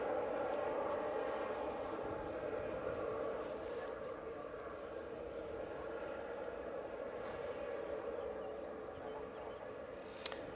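An airliner's engines rumble steadily at Manchester Airport as it comes in on final approach, a broad distant roar that holds for about ten seconds.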